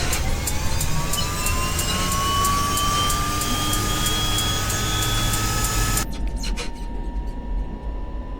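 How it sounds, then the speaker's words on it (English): A simulated aircraft engine in the X-Plane 11 flight simulator whines up in pitch during start-up, holding a steady loud drone before the sound cuts sharply to a lower rumble. "Looks like we got a good engine start."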